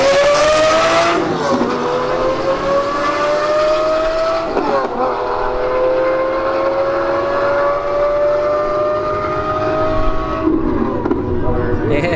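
A Lamborghini Urus SUV drag races down the strip, its engine climbing through rising gear-by-gear revs with brief dips at each shift, loud and close, as a voice talks over it.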